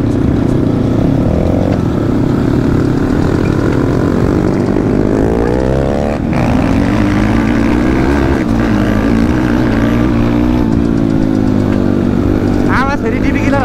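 Dirt bikes race along a new dirt track, their engines droning loud and continuous with rising and falling pitch sweeps as they pass; people talk over the steady roar throughout.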